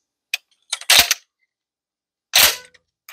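An ATI Bulldog 12-gauge shotgun has its action cycled to clear it, giving a few sharp, close mechanical clacks in two quick clusters separated by silence.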